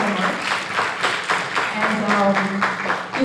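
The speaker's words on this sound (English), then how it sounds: "Let's give them a round of applause" Steady audience applause at a community event, a dense wash of clapping hands at moderate loudness lasting throughout without a clear break.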